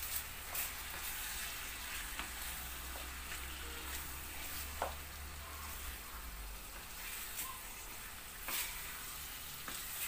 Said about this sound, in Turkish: Köfteyi kızartacağım şurada.